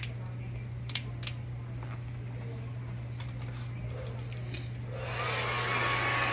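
Hair dryer rough drying a client's hair at a salon, a steady, close mechanical hum and airflow running throughout, growing louder and more rushing near the end as the dryer is aimed closer.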